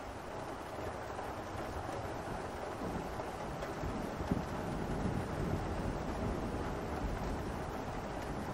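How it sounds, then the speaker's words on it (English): A heavy thunderstorm with pouring rain in Africa, heard from a covered deck as a dense, steady roar of rain and gusting wind with faint low rumbles throughout, continuous and with no voices. "the power of the storm blurs everything outside and makes you retreat from the covered deck into your room."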